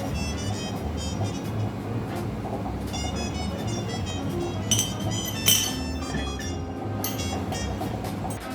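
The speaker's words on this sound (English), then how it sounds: "I need to pour a glass of fizz." Fizz poured into a glass at home, a fizzy hiss with light clinks and rattles of glass that rise around the middle of the pour, over a steady low background hum.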